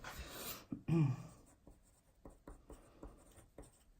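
Pen writing entries into a column of a yearly writing schedule on paper, a series of short, soft scratching strokes at close range following a brief louder rustle at the start, with no talking.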